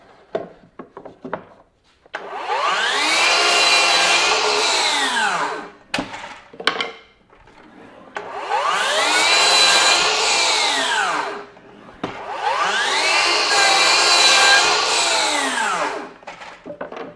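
FLEX 24V brushless 12-inch dual bevel miter saw with the dust extractor off, making three loud whining cuts through wood, each motor spin-up and cut lasting a few seconds with brief pauses and clunks between.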